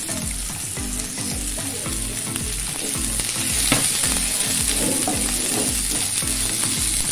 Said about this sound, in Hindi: अभी देखो इसमें हम प्याज डाल दिया